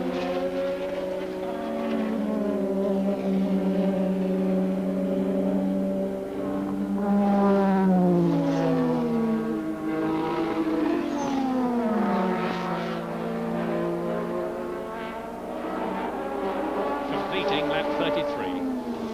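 Turbocharged 1984 Formula 1 race cars at the Austrian Grand Prix, battling for the lead, pass with loud, continuous engine whine rising and falling in pitch as they accelerate and shift, under steady commentary.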